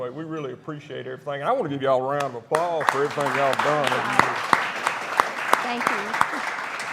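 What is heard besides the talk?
audience applause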